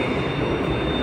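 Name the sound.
LRT train running in Kuala Lumpur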